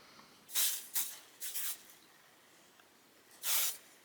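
Several short, crisp hissing bursts of Confess fragrance aerosol body spray, with a few quick puffs close together, a pause, then one last spray.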